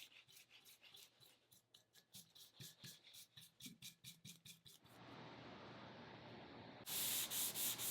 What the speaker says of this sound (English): I sanded things smooth with 320 grit sandpaper and a 3M 7447 Scotch-Brite pad